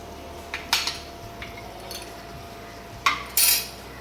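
A metal spoon scraping and clinking against a pan while chilli powder, garam masala, coriander powder and turmeric are sautéed for spicy Puneri misal, a few sharp isolated clanks over a quiet background.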